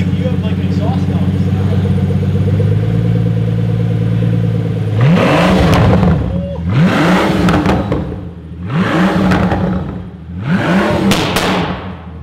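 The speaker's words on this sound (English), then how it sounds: "We're listening to the new exhaust" A Pagani Huayra Roadster Tempesta with a new exhaust idles with a low rumble, then fires off four sharp, loud revs in a row, each rising and falling back, with people talking around it.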